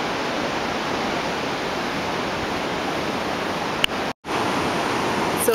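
Big surf breaks on a Bali beach as a steady, loud, close wash of broadband roar with no talk, briefly cut out near the end.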